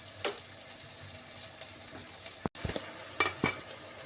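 Coriander powder sizzles faintly in a frying pan for a carrot curry, with a few distinct scraping stirs of a spoon against the pan and no talk.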